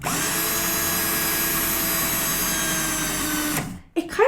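A power drill whirs steadily at high speed for several seconds, loud and close, then cuts off abruptly, leaving brief faint rustling.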